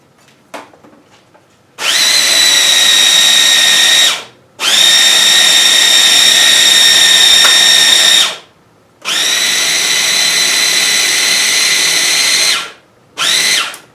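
An electric grinder grinds sesame seeds for tahini in loud, high-pitched whirring bursts, three long runs and a short final one, each separated by brief pauses of silence.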